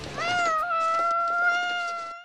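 A cartoon cat meows in one long, loud, drawn-out wail up close, with no other sounds.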